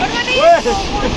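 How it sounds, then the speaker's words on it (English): An ice-cold mountain river rushes past a roadside break spot in Ladakh, a steady broadband wash of water mixed with wind buffeting the microphone, while people talk over it. "look at this river"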